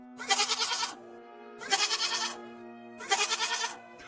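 A goat bleats three times in a row, each call loud and close, about a second long with short pauses between, and nothing else is heard.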